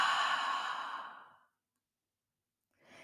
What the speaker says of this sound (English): you will breathe in through your nose and push out all the air through your mouth